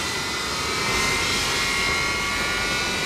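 A large jet bomber engine from the 1950s, the number 4 engine, roars steadily at close range as it starts, with a high whining tone sitting above the broad rushing noise.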